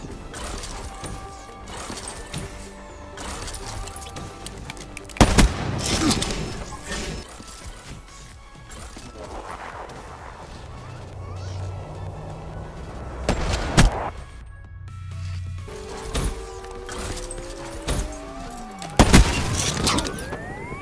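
Gunfire from trickshots in Black Ops 3, sharp shots cracking at intervals over a busy game soundtrack with whooshes and background effects, a few loud blasts standing out near the start, middle and end.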